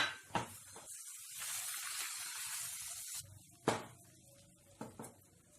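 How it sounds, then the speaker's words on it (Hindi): Omelette egg mixture poured into hot oil in a pan for a bread omelette: a broad sizzling hiss that swells and then fades, with a few sharp utensil knocks. "तेल गरम हो चुका है। इसमें हम ये ऑमलेट का मिक्सचर डाल देते हैं।"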